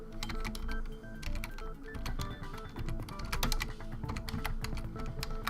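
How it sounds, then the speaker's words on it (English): Computer keyboard typing during a Danganronpa 2: Goodbye Despair playthrough, quick irregular key clicks layered over game music, close and clear with no talking. "Sorry, I'm just typing it in."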